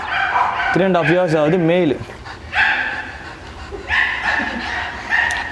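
A dog at a kennel in Chennai gives a drawn-out, wavering whine-like yelp, then short barks, close by and mixed with someone talking in Tamil.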